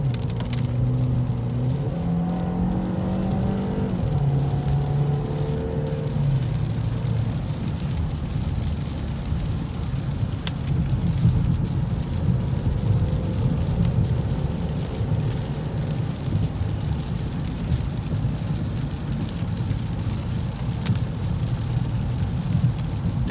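A 2015 Ford Fusion with a 1.5L EcoBoost engine on Goodyear Eagle tires drives a wet, curvy road, giving a steady low engine drone and rushing tire hiss on wet pavement. Gear-like pitch shifts come early on, and the whole drive sounds continuous and close.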